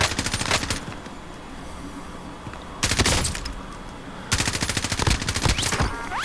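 M4 rifle fire in Call of Duty Warzone, loud rapid automatic bursts in three separate volleys, the first near the start and two more later, with quieter ambient game noise in the gaps.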